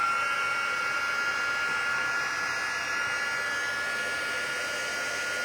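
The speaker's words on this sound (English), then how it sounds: "Okay, then I'm going to take my heat tool." Handheld heat tool blowing hot air to melt embossing powder on a stamped image, a steady close, loud whooshing hiss with a faint high whine that runs unbroken throughout.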